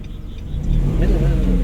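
A car engine starts during a driving lesson: a brief low rumble swells after a moment into a loud, steady running hum close by.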